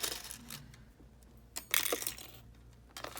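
Metal paper clips rattling and clinking as they are taken out of a desk drawer, a few faint jangling bursts with a brighter cluster of clinks in the middle, close and quiet.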